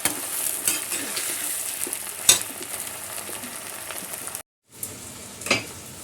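Sliced tomatoes tossed onto browned onions sizzle and fry in a pan for saag and makki roti, a steady close crackle with scraping stirs and one sharp clatter, then a brief cutout before the sizzling resumes.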